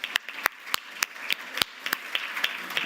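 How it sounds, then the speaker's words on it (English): Applause for a musician at a city summit, fairly sparse and light: individual sharp claps from a small audience at an uneven rhythm, close and moderately quiet. "So let's give him a big round of applause"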